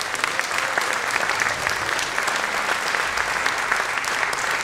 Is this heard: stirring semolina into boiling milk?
no